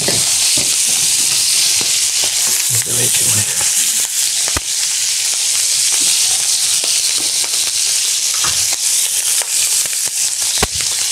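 Steady loud sizzling and hissing of lamprey frying in hot oil in a pan, continuous throughout with occasional clicks and faint voices underneath.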